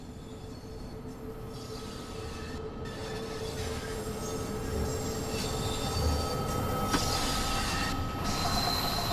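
A train in the Train Sim World video game runs on track above ground, a steady rumbling roll with faint wheel squeal and tonal whine, gradually growing louder, with an occasional clunk, no talking.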